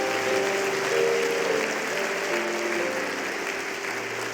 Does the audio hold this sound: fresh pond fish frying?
no